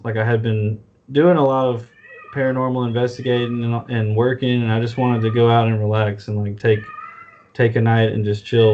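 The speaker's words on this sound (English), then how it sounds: "Sorry about my cat." A pet cat meows repeatedly and loudly close by, long drawn-out calls that overlap a person talking at the same time.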